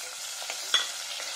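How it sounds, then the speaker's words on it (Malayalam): Tomatoes frying in coconut oil in a hot pan give a soft, steady sizzle, with a brief stirring scrape partway through, close and alone. "നമുക്ക് കുറച്ച് വെളിച്ചെണ്ണ ഒഴിച്ച് തക്കാളി ഒന്ന് വാട്ടിയെടുക്കാം"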